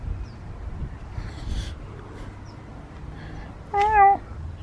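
A cat meows once, a clear, fairly close call standing out alone over a quiet room background near the end.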